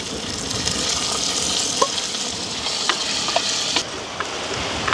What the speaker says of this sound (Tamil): இந்த வெங்காயம் பச்சை மிளகாய் கருவேப்பமிலையெல்லாம் நல்லா அப்படியே பொரிஞ்சு வந்து வரட்டும்.